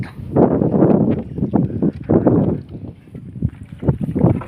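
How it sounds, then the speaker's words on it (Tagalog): Strong southwest monsoon wind buffets the microphone over open sea near a small fishing boat, with loud gusting rumbles in uneven surges and water splashing close by throughout. "medyo ma lakas ang habagat"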